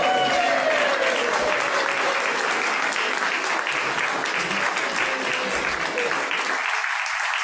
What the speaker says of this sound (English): And now wild applause and hoopla is perfectly appropriate.